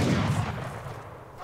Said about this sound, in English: There's the cannons